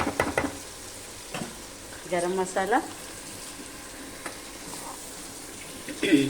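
Chicken frying in a pan with coriander, mint and garam masala added, a soft sizzle under occasional spoon scrapes and clinks, with brief bits of voice in between.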